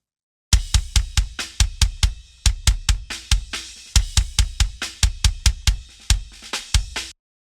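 Rapid, punchy kick drum hits in a steady pattern from a punk rock drum recording, with bright cymbal bleed ringing between and over them, nothing gated out, close and loud.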